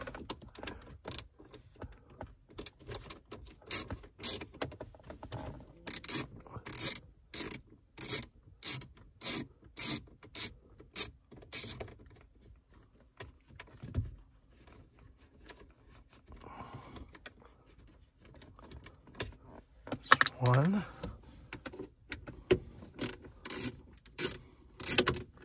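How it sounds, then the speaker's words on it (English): A ratchet clicking in quick repeated bursts while backing out 7 millimeter bolts low on the center console of a 2008-2014 Cadillac CTS, close and crisp, with quieter rubbing and handling sounds between runs. "remove these two 7 millimeters down here"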